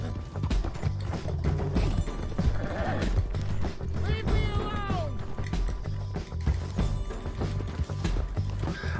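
A horse in Red Dead Redemption 2 clip-clops steadily along with a whinny midway, its hooves close and loud over continuous game ambience, with occasional faint voices.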